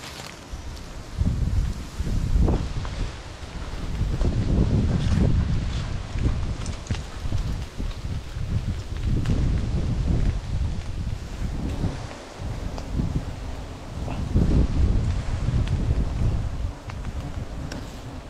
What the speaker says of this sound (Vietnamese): Gió quá cũng nguy hiểm nữa cả nhà.